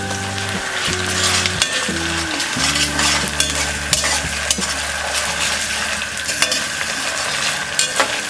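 Vegetables stir-fry over a medium to high flame for soya chunk fried rice, with loud, steady sizzling up close, scraping stirs against the pan and a few metallic clinks.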